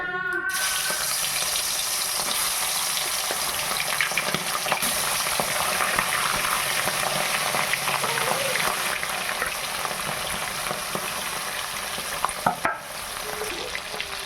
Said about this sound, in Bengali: এবার আমি মাথাগুলো ভেজে নেব।